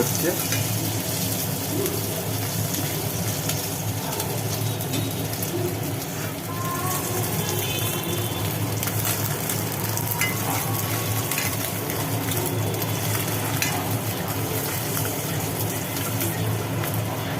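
Hilsa fish roe frying crisp in oil in a pan, a continuous soft sizzle with occasional stirring and light clinks, steady and close, with no speech over it.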